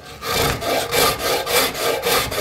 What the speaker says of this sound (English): I'm just taking my rasp and following these lines and these dips